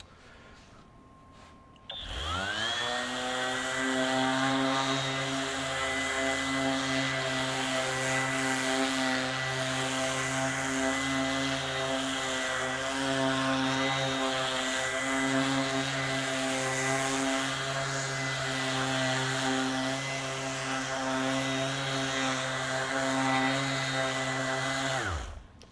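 A FLEX FX3411 24V brushless 5-inch cordless random orbital sander, dust bag fitted, runs on a board: a sudden start into a loud, steady, droning motor whine with strong harmonic hum that continues unbroken for over twenty seconds.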